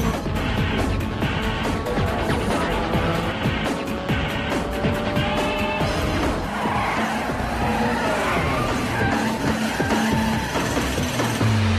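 A race car in a 2001 street-racing film scene drives hard and skids, a dense roar of engine with tire squeal and crashing effects mixed with music, continuous and loud throughout.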